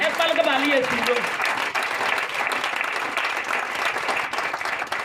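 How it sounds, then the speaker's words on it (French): A church congregation breaks into sustained, loud applause and acclamation, with a voice speaking over the opening moments. "Acclame fort Jésus"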